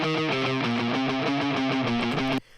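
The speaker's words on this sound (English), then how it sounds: "the guitar amp actually sounded like this" Heavy distorted electric guitar played through a guitar amp for a heavier rock song, chugging a sustained, thick chord riff loudly and steadily before cutting off abruptly near the end.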